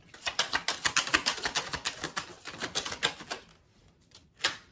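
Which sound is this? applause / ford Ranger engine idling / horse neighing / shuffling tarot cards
shuffling tarot cards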